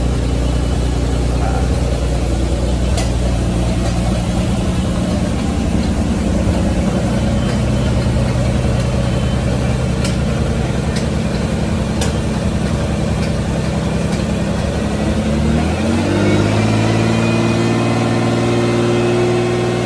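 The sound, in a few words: Ferrari 12-cylinder engine starting and running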